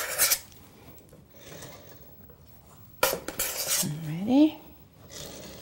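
An offset spatula spreads icing across the top of a cake, giving soft scraping strokes at the start and again midway, with a brief spoken word near the end.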